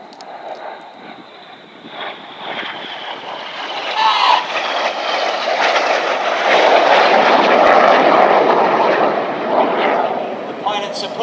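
RAF Red Arrows jets fly the carousel manoeuvre as a synchro pair at an air display at Epsom College, a loud, swelling jet roar that builds to a sustained peak and stays strong, with wind buffeting the microphone.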